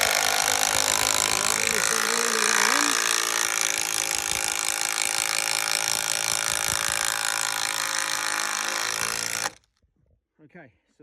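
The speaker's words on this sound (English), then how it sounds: "We're going to put in this 150mm screw." A 150mm screw is driven by a power driver through a timber bottom plate and flooring into a joist. A steady, loud mechanical whir with shifting pitch runs for about nine seconds, then cuts off, leaving near silence.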